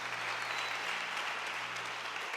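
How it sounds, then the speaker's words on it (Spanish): A church congregation applauds the Lord during a Spanish-language service, a steady, dense wash of clapping that holds evenly throughout with no voices over it and a faint low hum beneath. "Puede darle ese aplauso al Señor si quiere"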